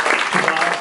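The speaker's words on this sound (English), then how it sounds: "Let's give a round of applause to" Audience clapping at a Mars One meeting, a brief dense wash of applause from a crowd, steady and fairly loud throughout.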